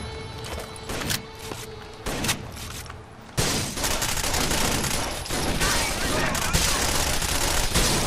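An M11 machine pistol in Rainbow Six: Vegas 2 fires short rapid bursts at first, then a sustained loud stream of automatic shots with other gunfire mixed in, and talk is faintly present.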